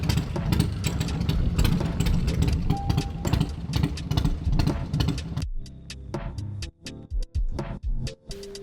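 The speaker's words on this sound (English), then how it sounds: "I want to ride your Sportster now." A Harley-Davidson Sportster motorcycle engine runs nearby with a loud, steady rumble that later breaks into uneven bursts and brief dips as the throttle changes.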